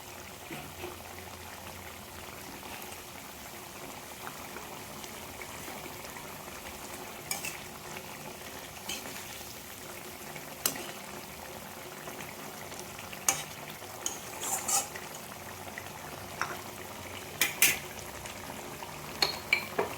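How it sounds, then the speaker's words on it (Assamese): Fried eggs are added to a pan of cooking curry, which bubbles and sizzles steadily at close range while a spoon stirs, tapping and clinking against the pan now and then, growing busier toward the end. "এই ভজা কণীখিনি ইয়াতে দিলোঁ"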